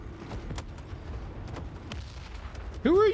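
Scattered gunfire and distant booms in the shooter Forever Winter, sparse sharp cracks over low rumble, ending with a loud rising tonal blast.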